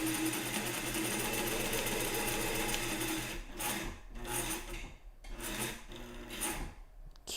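Home sewing machine stitching while thread tension is tested: steady close whirring runs for about three and a half seconds, then breaks into several short stop-start bursts of stitching, with no voices.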